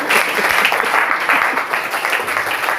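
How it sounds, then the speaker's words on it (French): A church congregation at a French worship service applauds the Lord, a loud, dense, close burst of clapping that holds steady to the end. "applaudissements pour le Seigneur"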